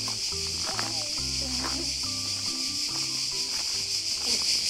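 Cicadas on Lokrum Island, Croatia, drone in a loud, unbroken high buzz that fills the whole stretch, with people talking and soft footsteps beneath it.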